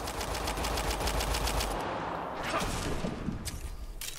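A turret fires rapid automatic bursts in the video game Mass Effect: Andromeda, a loud close rattle that cuts out and returns with a few scattered later shots.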